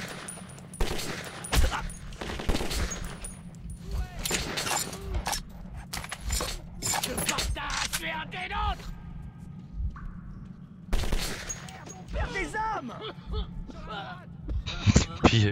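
Gunfire in Metro 2033 crackles in short scattered bursts over a low steady game hum, with voices talking in between the shots.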